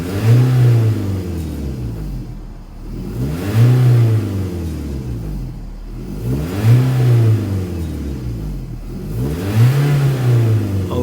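A car engine with freshly replaced spark plugs revs up and falls back in four smooth, regular swells, loud and near, with no talking.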